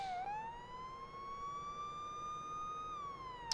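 Police car siren in a video game, a steady wailing tone that rises slightly, holds, then dips, heard alone at low volume.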